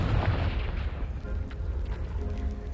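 A Confringo spell explosion in Hogwarts Legacy on PS5 Pro, a heavy deep boom rolling out and settling into a low rumbling tail.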